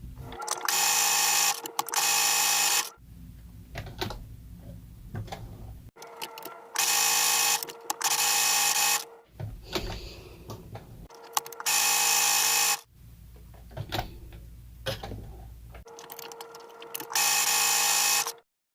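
A sewing machine stitches a fabric face mask in bursts of about two to three seconds each, its fast whirring loud and close, with quieter handling noises of fabric between runs.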